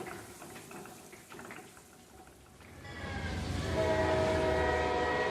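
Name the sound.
train passing on tracks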